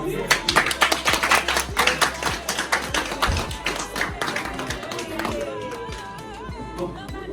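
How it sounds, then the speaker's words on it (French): Guests at a customary wedding clap together in a dense, lively burst that gradually thins out, with voices and background sounds mixed in beneath the claps. "Applaudissez."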